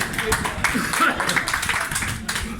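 Guests at an iftar dinner clap for Shahbaz Sahib, a brisk burst of close handclaps mixed with lively talking voices.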